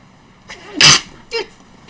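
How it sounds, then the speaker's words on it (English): A single loud sneeze up close, followed by a short sniff or small exhale. "just sneezed."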